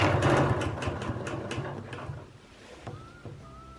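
A Bernina Q16 quilting machine stitches circles, its needle clattering in a fast, steady rhythm that is loud at first and then fades, with a few short tonal beeps toward the end.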